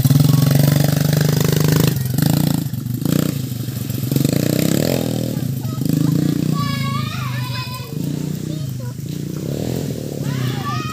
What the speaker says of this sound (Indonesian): kita mau hidupin motornya si bocil dulu